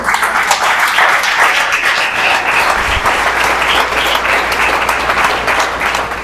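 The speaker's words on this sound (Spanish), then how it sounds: "Aplauda al Señor" A church congregation breaks into loud, sustained applause, many hands clapping densely and evenly throughout with a faint crowd murmur beneath.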